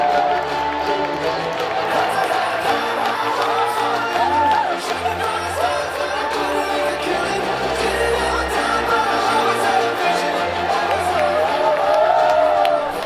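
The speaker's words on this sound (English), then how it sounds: "Please give a round of applause to Mr. Maverick" A conference audience claps and cheers for a speaker being introduced, a continuous crowd roar with scattered whoops and voices mixed through the clapping, loud and sustained from start to finish.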